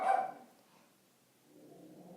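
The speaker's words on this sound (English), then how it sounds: "you can hear my dog barking in the background there" A pet dog barks once in the background, a short bark followed by a faint whimper, heard alone in a quiet indoor room.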